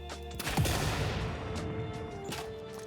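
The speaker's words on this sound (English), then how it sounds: "I do like the explosion." A rock is blown up in the Satisfactory video game as a loud explosive blast that bursts in sharply and then decays into a sustained rumbling crash, with a few later sharp transients and no speech.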